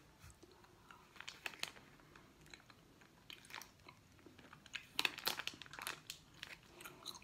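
Crunchy fish-shaped American candy being chewed up close, with repeated crisp crunching bites in irregular bursts, loudest near the middle, and no talking.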